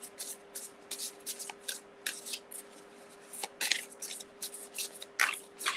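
Oracle cards are shuffled by hand in a quiet room, a fast run of soft riffles and slaps repeating in bursts, close and fairly faint, with a steady faint hum underneath.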